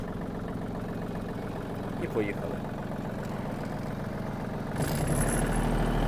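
A Yanmar RS-30 Japanese mini tractor's engine runs at a steady idle-like chug, rising slightly in loudness as it pulls away, with a short spoken phrase over it.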